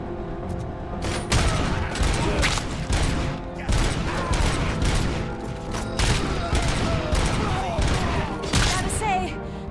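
Rapid gunfire from the video game RoboCop: Rogue City, dense repeated bursts of shots with mechanical clanks running loud and continuous throughout.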